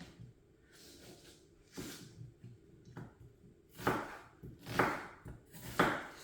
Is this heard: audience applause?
no